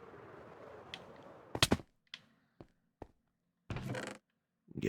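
Fireworks in the video game Minecraft go off as a string of sharp separate bangs and crackling bursts, loud and close, with short gaps between them after a steady noisy game background.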